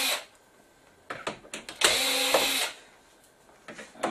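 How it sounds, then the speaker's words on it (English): A cordless screwdriver whirs in short bursts while backing screws out of a Nordmende LCD TV, with clicks and handling noises between the close, moderately loud runs. "And cordless screwdriver is always handy. Makes it a lot faster."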